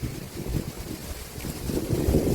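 Strong wind buffets a microphone outdoors during dry-season rat trapping in the fields, making a loud, steady low roar that swells in gusts, with no voices.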